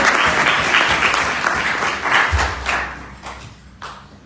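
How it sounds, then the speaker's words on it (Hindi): Church congregation claps for a few seconds during a Sunday sermon, a loud burst of applause that thins out and fades, ending with a few scattered single claps. "तालियां मुझे लिजा के लिए।"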